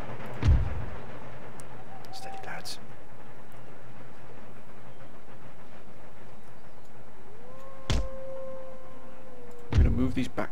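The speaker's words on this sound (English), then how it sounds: "There's the artillery." Artillery fire in Empire Total War: a few heavy booms spaced several seconds apart, one early and two near the end, over a low battlefield rumble, with voices faintly present.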